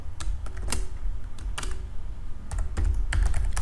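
Fingers type on a computer keyboard, close and clicky, in quick irregular bursts of keystrokes with short pauses between them and no voices over the clatter.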